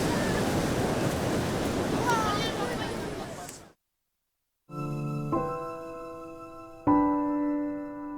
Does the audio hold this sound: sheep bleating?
no